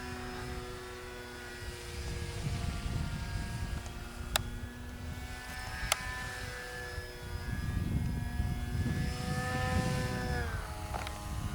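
A model airplane's small propeller engine drones steadily overhead, its whine shifting in pitch as it passes, with a couple of sharp clicks along the way.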